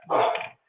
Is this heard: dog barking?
yes